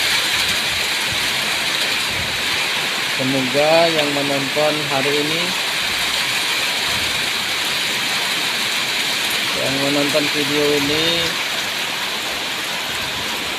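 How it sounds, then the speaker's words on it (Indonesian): Very heavy rain pours down in a dense, loud, continuous hiss that fills the whole scene, with someone talking twice over it. "mendapatkan hujan yang sangat deras sekali hujannya"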